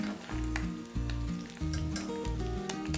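An egg fries in hot oil in a home kitchen pan for paneer egg burji, giving a loud, continuous close sizzle with bursts of crackle and light stirring, heard without talk.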